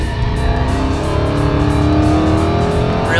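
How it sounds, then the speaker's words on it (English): Dodge Charger SRT Hellcat V8 revving hard and loud for several seconds, a deep continuous engine roar with harmonics that stays close and steady throughout. "Amazing noise coming from this engine."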